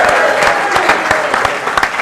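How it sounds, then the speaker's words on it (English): A crowd claps steadily in dense, lively applause, close and fairly loud, across the whole short stretch. "Give a round of applause."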